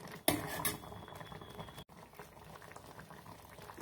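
Raw mango pachadi in a pot: a brief splash and sizzle as the tempering is poured in, then steady soft bubbling as it simmers and thickens.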